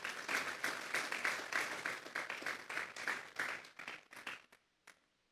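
A church congregation breaks into a hearty round of applause, dense rhythmic clapping sustained for several seconds before thinning to a few scattered claps and fading out.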